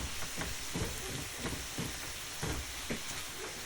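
Onions sizzling in a hot pan while cooking Chinese-style pepper steak with lo mein, a faint steady crackling fry with occasional louder pops, no talk.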